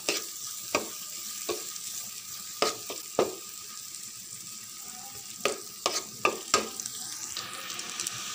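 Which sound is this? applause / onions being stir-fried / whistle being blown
onions being stir-fried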